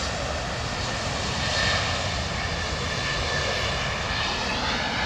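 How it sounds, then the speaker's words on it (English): An ANA Boeing 777 taxiing on taxiway Bravo at Heathrow Airport produces a dense, constant jet-engine roar, loud and close, holding steady throughout without talk. "ANA 777 taxiway Bravo."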